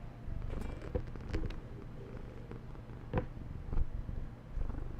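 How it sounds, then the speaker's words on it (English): A pet cat purrs close to a microphone, a steady low rumbling texture running throughout, with a few louder bumps and rustles over it. "Can you hear her purring into the mic?"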